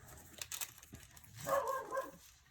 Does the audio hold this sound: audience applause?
no